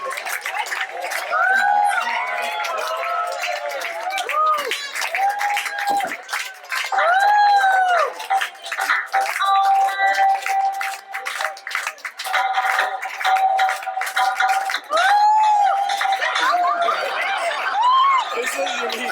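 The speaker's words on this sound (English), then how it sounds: "Big round of applause once again." Crowd at an upcycled fashion runway show applauding and cheering, steady clapping with voices and chatter mixed in, loud and close throughout with brief dips.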